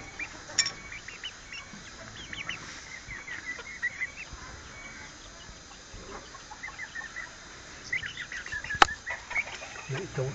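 Farmyard chickens cluck intermittently at a moderate distance, with scattered sharper calls and faint background voices.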